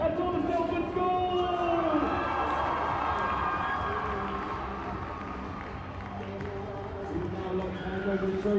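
A crowd applauds and cheers for the Thomas Telford School girls' under-14 football team and their coaches after a cup final, with steady clapping and shouts that dip slightly midway and rise again, while an announcer's voice carries over it.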